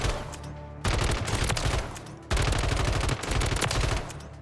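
A Ram 7 assault rifle in the game Warzone fires in rapid automatic bursts, two long sustained strings of loud close gunfire separated by a short pause, with no talk.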